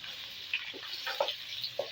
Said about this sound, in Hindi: और प्याज को ना हम ना फ्राई करते हैं थोड़ा सा।